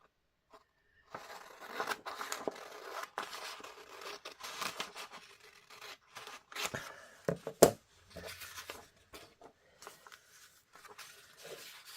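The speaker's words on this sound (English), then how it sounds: "So what I'm going to do is cut down the centre of these." Scissors cutting down the centre of craft paper: soft irregular snipping and slicing strokes with paper rustle and crinkling, close and fairly quiet, with no talk.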